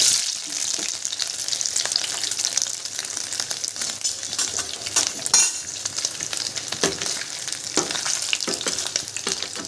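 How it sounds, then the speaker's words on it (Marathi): Paneer frying in hot oil in a pan, a steady dense sizzle with bursts of spattering and occasional stirring scrapes, close and continuous throughout. "आपण पनीर तळून घेऊया"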